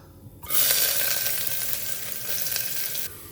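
Chopped onion hits hot oil already spiced with cinnamon, cloves and cardamom for a vegetable biryani, a sudden loud close sizzle that holds steady for about two and a half seconds, then cuts off.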